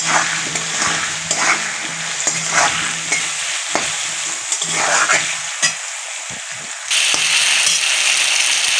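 Potatoes sizzle in a hot pan with turmeric powder while a spatula stirs and scrapes through them, the frying hiss loud and close and broken by brief pauses.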